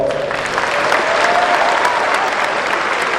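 Brief, full applause from the crowd at a high school commencement, many hands clapping steadily at close range for a few seconds.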